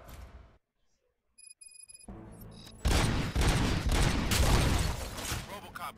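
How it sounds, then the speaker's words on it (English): Gunfire erupts in RoboCop: Rogue City, bursting into a loud, continuous fusillade after a brief quiet stretch with faint mechanical clicks, the volleys dense and close. "Gunshots? What's going on?"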